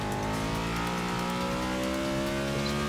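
Racing car engine in a racing video game, a loud steady high-revving drone with layered harmonics held throughout, tyre noise faintly underneath and no talking.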